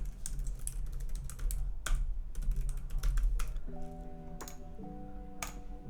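Keys on a computer keyboard clatter in quick, uneven bursts as someone fills in a web form, close and fairly quiet, with a few soft tonal chimes near the end.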